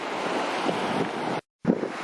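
Wind blows across the microphone at a beach on Skiathos, a steady broadband rush with gusty swells, close and fairly loud, cut by a brief dropout before resuming.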